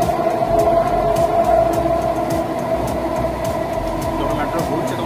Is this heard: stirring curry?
no